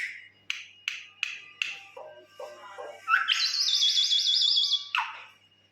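A pet myna bird calls at close range: a run of sharp clicking whistles, a few lower chuckles, then a sustained buzzing trill before a final squawk.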